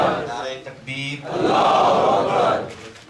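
A majlis crowd roars back in answer to the Nara-e-Takbeer slogan, a short lead call followed by a loud, sustained chorus of many voices that swells and then fades.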